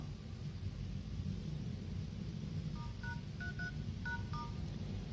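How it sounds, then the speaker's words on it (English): Keypad tones dial a code on an iPhone 6 clone: a quick run of short, clear beeps starting partway through, close and distinct over a steady low rumble and hiss. "So we dial the code."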